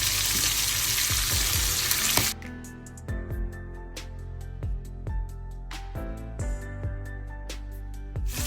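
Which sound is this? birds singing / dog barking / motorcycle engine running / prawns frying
prawns frying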